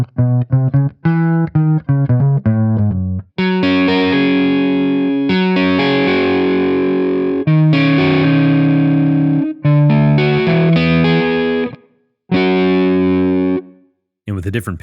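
Shreddage 3 Archtop virtual archtop guitar on a lightly warm, clean preset plays quick plucked notes and then ringing chords, close and bright with short pauses between phrases.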